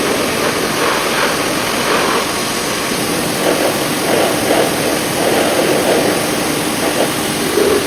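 Steady broadband water spray rinsing CLR cleaner off 30-year-old exhaust tips, a continuous rushing hiss that holds at an even level throughout with faint fluctuations, no voices.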